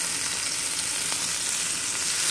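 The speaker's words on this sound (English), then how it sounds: "You hear that sizzle?" Shrimp sizzle steadily in a hot pan, a continuous bright crackling hiss with no talking.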